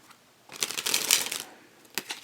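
Bicycle Butterfly playing cards being shuffled and handled, a soft riffling flutter rising for about a second, then a couple of brief crisp snaps, close and quiet.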